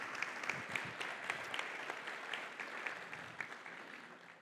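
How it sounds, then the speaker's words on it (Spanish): A church congregation breaks into applause, dense clapping from many hands filling the room at moderate distance, steady then gradually thinning toward the end. "¿Usted cree que le podamos dar un aplauso al Señor?"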